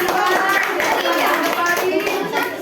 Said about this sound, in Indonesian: sekali lagi tepuk tangan untuk kelompok